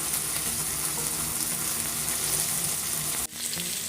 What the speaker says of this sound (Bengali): চাইলে জাস্ট টুকরাটাকে এভাবে ধরে আগুনের উপরে এরকম একটুখানি ঝলসে নেবেন।